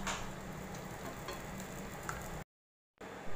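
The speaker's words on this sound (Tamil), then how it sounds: "கொஞ்சமாக அதை சுற்றி எண்ணெய் விட்டுக்கலாம் தேவைப்பட்டால்." Wheat dosa frying in oil on a pan over a medium flame, a steady close sizzle with fine crackling pops, cutting out briefly before the frying resumes.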